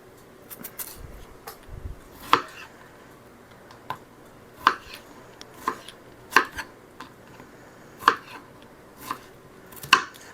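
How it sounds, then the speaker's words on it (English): A knife chops fresh strawberries on a cutting board for homemade jam, sharp close taps landing every second or two in an uneven rhythm against quiet kitchen background. "finish chopping these up off camera so you don't have to sit here and watch me chop this entire bowl"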